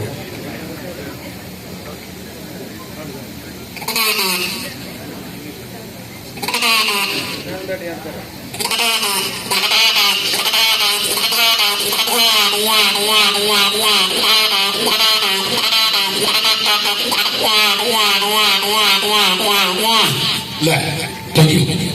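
A voice imitates a waterhen's call: a few short bursts, then a long run of rapid, warbling, repeated cries, loud and close.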